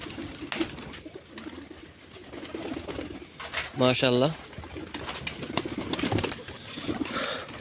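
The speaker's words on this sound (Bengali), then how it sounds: "সব এখন এদিকে চলে আসবে আমার কবুতরগুলি" Pigeons at a feeding spot give a close burst of throaty cooing, with further soft coos and bird calls scattered through steady background noise while someone speaks briefly.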